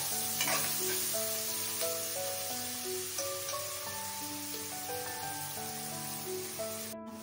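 Onions sautéing in a pan for pithla, a steady, soft crackling sizzle with occasional stirring, continuous and close against background music.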